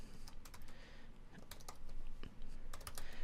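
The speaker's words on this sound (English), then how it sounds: "you just need to type in that user's email address" Computer keyboard keys are tapped in quick, irregular bursts while an email address is entered, close and clear with no voices.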